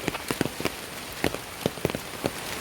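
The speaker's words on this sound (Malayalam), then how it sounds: "മഴ നനഞ്ഞു മഴ നനഞ്ഞ് നടക്കുന്നുണ്ട്" Rain falling outdoors around a rural Kerala home, with scattered drops pattering on surfaces under a steady soft wash of rainfall, close and fairly quiet, with no voices.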